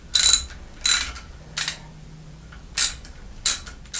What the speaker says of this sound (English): When tightening the brake handles